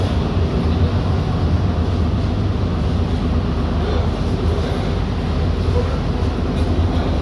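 A Sealdah–Dankuni local train runs close alongside, a steady loud rumble of wheels and carriages that fills the whole stretch without letup, heard from aboard a neighbouring AC EMU local.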